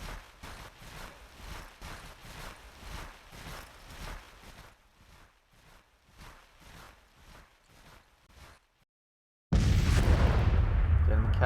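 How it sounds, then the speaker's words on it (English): Enemy cannons firing in a Confederacy campaign video game, as a steady series of muffled, distant booms at a regular pace. Quiet battlefield ambience follows, then a sudden loud blast of noise near the end. "The enemy cannons is shooting at me."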